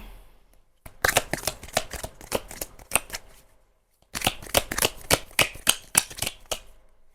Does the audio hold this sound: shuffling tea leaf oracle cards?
yes